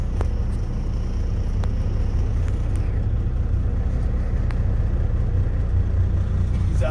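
A manual car pulls away from a stop in third gear, its engine a steady low rumble that swells gently as the clutch engages, heard from inside the cabin with no talk.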